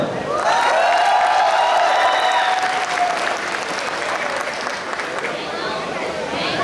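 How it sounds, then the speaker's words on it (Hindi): Loud audience applause at an alumni meet, thick and continuous, with crowd cheers and a voice rising over the clapping in the first few seconds. "पर मिलकर तालियां बजाओ।"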